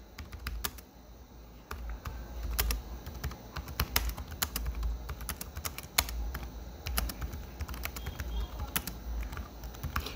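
Keys clatter on a computer keyboard as text is typed, with steady, irregular close clicks running throughout, no talking.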